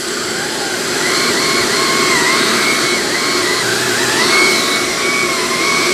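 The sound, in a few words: Shark Apex vacuum with TruPet mini motorised attachment running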